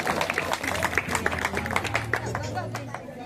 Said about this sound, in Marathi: सगळे जोरदार टाळ्या वाजवा पोरला मस्त नाचली पोरी